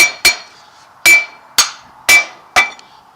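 A hammer tapping a part onto a vehicle driveshaft during a carrier bearing replacement, six sharp metallic strikes at a steady, roughly half-second rhythm, close and loud with ringing decay in a quiet workshop.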